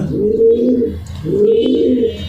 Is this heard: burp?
no